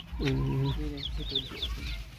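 A chicken gives a few nearby clucks, and a person speaks softly alongside it.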